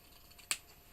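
A single crisp snip of scissors trimming a small piece of paper for paper quilting, close and isolated against quiet background.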